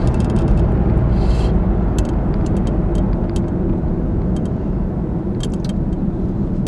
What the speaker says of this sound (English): loads of traffic around Braintree